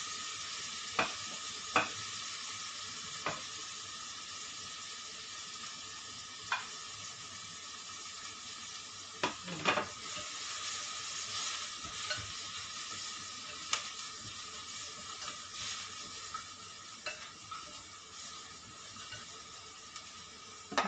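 Chicken and carrots sauté in a pot for a Filipino chicken macaroni soup, a soft, continuous sizzle under repeated utensil clicks and stirring scrapes, no talking.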